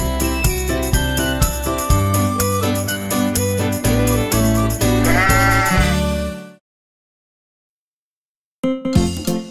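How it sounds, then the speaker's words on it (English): Sheep bleats mix with cheerful nursery rhyme music and tinkling bells in an animated children's song, loud and bright before cutting to silence, then a brief burst of music returns. "Baa Baa, black sheep, have you any wool?"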